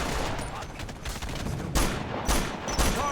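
Gunfire from an ambush in the military shooter game Operation Flashpoint: Dragon Rising, with dense overlapping rifle and machine-gun bursts and several sharp louder shots standing out near the end.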